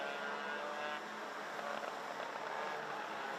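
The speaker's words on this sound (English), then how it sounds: "Sounds like it's the 214 Sebastian Koch that's got the noisy exhaust" A racing kart with a noisy exhaust buzzes in the distance during a race at Genk, its rough exhaust rising and falling in pitch as it passes. The sound is faint.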